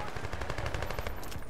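Rapid automatic gunfire in the video game Bad Company 2, a dense, evenly spaced stream of loud shots filling the whole moment without pause.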